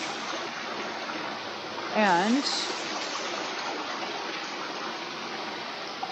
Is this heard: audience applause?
no